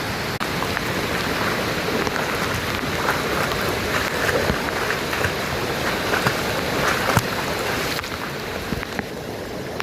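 Floodwater from a swollen river rushes over a fully submerged bridge near a Mahadev temple, a continuous loud wash of turbulent water with scattered splashes, steady for the whole stretch and free of talk.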